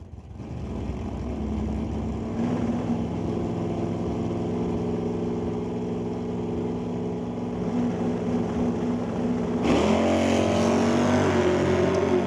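Drag race cars at an NHRA Northwest National Open Series event, a sustained loud engine roar that grows brighter and louder near the end as the cars leave the starting line, with no voices.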